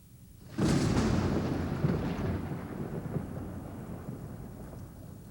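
A thunderstorm where a sudden loud thunderclap breaks out of quiet and rolls into a long, gradually fading rumble with rain hissing underneath.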